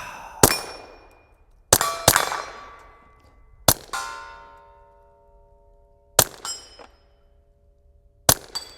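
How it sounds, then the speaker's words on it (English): Sharp metallic clangs from .22 rimfire rounds fired by a Browning Buckmark pistol striking a small 3-inch steel plate, five distinct rings spaced over several seconds, each with a bright ringing decay, the pairs close together. "Oh, I hit that little 3-inch plate."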